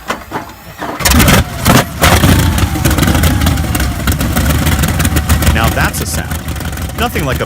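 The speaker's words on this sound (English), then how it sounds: "Nothing like a big old radial engine starting up." A big Wright Cyclone R1820 radial aircraft engine starting up: a few loud sputtering coughs and pops, then a rough heavy rumble that settles into a loud running roar, close and dominating.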